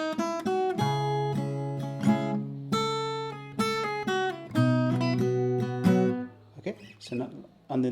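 Fingerstyle acoustic guitar plays the opening of a Hindi song, plucked melody notes ringing over sustained bass strings in a steady phrase, close and clear, ending with a brief touch of talk.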